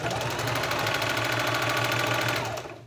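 A sewing machine runs steadily while sewing a travel blanket, with a loud, close mechanical whir and rapid needle rhythm that carries evenly throughout and winds down at the end, with no voices.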